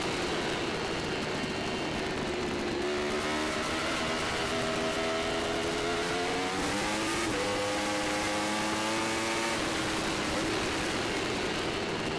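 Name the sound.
Formula Pacific race cars racing through turns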